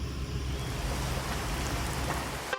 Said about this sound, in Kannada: ಚೆನ್ನಾಗಿ ಮಳೆ ಬರ್ತಾ ಇದೆ.